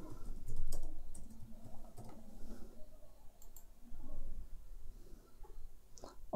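Fingers type on a computer keyboard in irregular bursts of close, crisp key clicks and taps with short pauses between runs, no voices.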